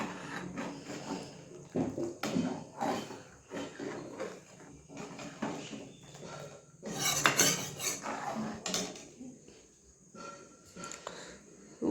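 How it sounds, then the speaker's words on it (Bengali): Pitha batter stirred in a pan gives intermittent scraping and clinking of utensil against metal, fairly quiet and irregular, with brief kitchen clatter and someone speaking at times. "এটাকে কন্টিনিউ নাড়তেই হবে"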